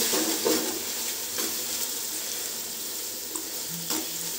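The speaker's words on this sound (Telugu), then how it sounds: "ఫ్రెష్గా రుద్దుకున్నట్టు వెల్లుల్లిపాయల పేస్టు, ఇది కూడా బాగా ఫ్రై చేసుకోవాలండి" Fresh garlic paste sizzles in hot oil for chicken biryani, a steady crackling fry with a few soft stirring scrapes and clicks, no voices.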